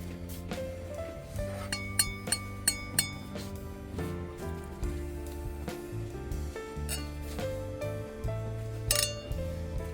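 Glass cups clink together several times in quick succession in a toast, bright ringing taps over a steady wash of background music.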